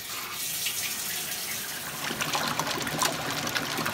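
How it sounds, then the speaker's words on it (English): Water streaming steadily into the tub of a Kenmore top-loading washing machine after shaft seal replacement, a continuous splashing rush that grows slightly louder and more turbulent toward the end. "Let's put some water in it."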